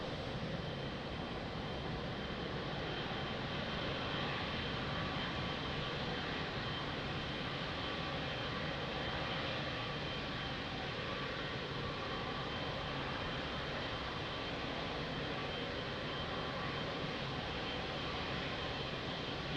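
An airplane arriving from Funchal at Lisbon Airport makes a steady, broad engine roar that holds at an even level throughout, heard alone without voices.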